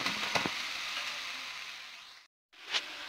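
Chicken pieces frying in a pan with just one spoon of oil, a steady soft sizzle with a few louder crackles, briefly cut to silence before resuming.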